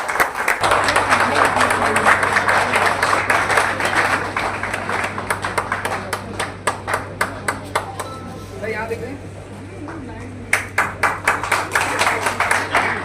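An audience clapping to welcome a guest, an ex-servicemen's league president, at a Lucerne ceremony honouring former soldiers; sustained applause settles into rhythmic, sharper claps, with a steady hum beneath and voices over it.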